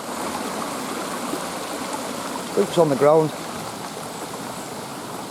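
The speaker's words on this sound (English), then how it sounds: "this is LUMSDALE Waterfall" Water rushing at Lumsdale Waterfall in Matlock, a continuous close wash of flowing water that runs throughout, with a person briefly speaking over it.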